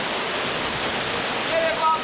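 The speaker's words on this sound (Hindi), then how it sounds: "वॉटरफॉल" Waterfall in Himachal, India, a steady broadband rush of falling water filling the whole clip at an even level, with a couple of faint brief tones near the end.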